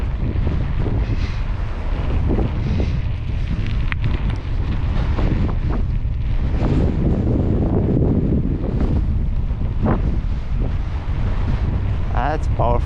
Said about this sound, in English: That's powerful wind. It's a side wind now, comes from left.